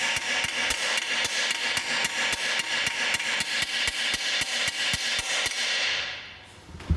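Steady, rapid hammering of rivets in vintage car metalwork inside a workshop: about three sharp metallic strikes per second, loud and close, over a constant background hiss, then a quieter pause and one last blow at the end.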